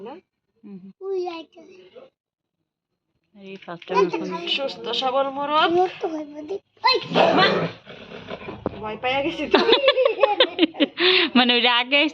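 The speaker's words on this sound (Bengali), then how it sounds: "দেখেন মারামারি করছে কুত্তা আর বিড়াল" Snarling, yowling animal scuffle with growls and shrill cries in bursts, close by, mixed with people talking over the commotion.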